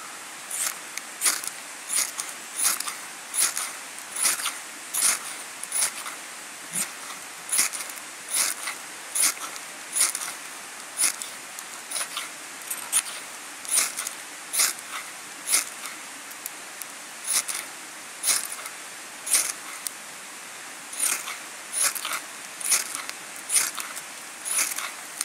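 A ferrocerium rod is scraped to light a fire at a bushcraft camp, giving a long run of sharp, regular rasping strokes, each one brief and bright, close and steady with quiet gaps between them.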